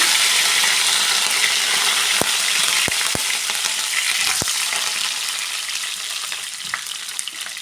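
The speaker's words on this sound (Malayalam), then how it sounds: "അടുത്തതായിട്ട് കടുകിട്ട് കൊടുത്തിട്ടുണ്ട്" Mustard seeds and curry leaves sizzling in hot ghee and coconut oil, a dense steady crackling hiss close up, broken early by a few sharp pops and clicks and easing slightly toward the end, with no voice.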